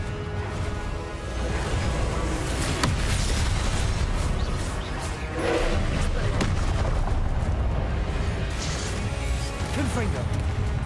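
Confringo fire spells blasting in Hogwarts Legacy: a loud, dense stream of booming explosive bursts and crashes with a voice talking over much of it.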